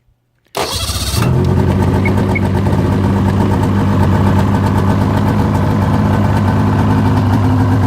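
A vehicle engine cranks briefly and catches, then settles into a loud, steady idle that runs close by with no talking.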